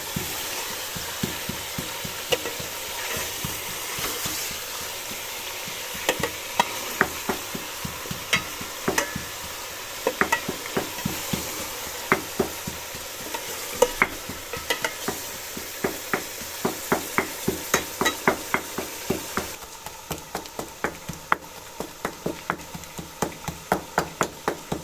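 Metal spoon stirring and scraping garlic paste in sizzling oil in a karahi, with a steady frying hiss under irregular clanking taps against the pan, close and fairly quiet.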